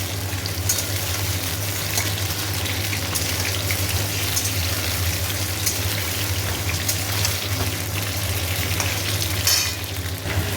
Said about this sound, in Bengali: আর আলুগুলো একটু ভাজা হোক, ভাজা হলে পেঁয়াজ দেবো।